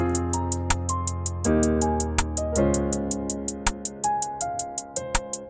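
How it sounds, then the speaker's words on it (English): Steady FL Studio hi-hat ticks on every second step ride over a looping beat with bass and melodic synth tones, evenly spaced and bright. "for the hi-hats, I just have like a basic hi-hat sound"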